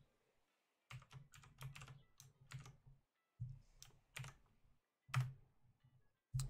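Loud, close typing on a clacky keyboard comes in several quick bursts separated by brief pauses, with sharp individual key strikes.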